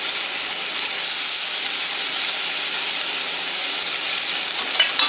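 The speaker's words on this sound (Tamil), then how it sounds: "அதையும் போட்டு நல்லா தேங்காய் வணங்குற அளவுக்கு 1 நிமிஷம் வதக்கி விட்டுட்டு ஆஃப் பண்ணிக்கலாம்" Brinjal, onion and grated coconut are sautéed in a pan, producing a continuous loud sizzle and hiss with faint stirring scrapes and no voices.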